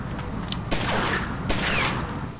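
Gunfire in the gangster strategy game Omerta: City of Gangsters, a continuous volley of shots with two louder bursts over a dense, steady roar, close and loud, with no talk.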